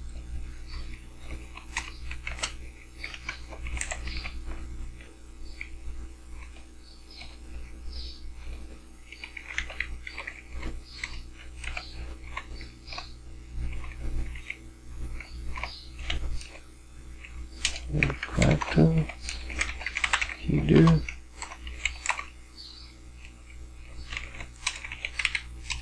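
Rapid typing on a computer keyboard while entering HTML in a web code editor, steady clicking keystrokes throughout with a denser, louder burst near the end, no talk.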